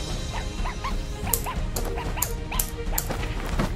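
Dog barking and yipping in a video game, with repeated short yelps at a steady rhythm over busy game sounds and background music.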